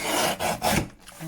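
Scissors or a blade cut through a specimen card in a crafting setup, a close, dry rasping stroke repeated in three or four quick passes before stopping.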